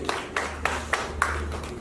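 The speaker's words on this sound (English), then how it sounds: "Please give her a big round of applause." Sparse, scattered handclaps from a small audience at a Lagos State Pension Commission event, about seven distinct claps spread evenly over a couple of seconds above a low steady hum.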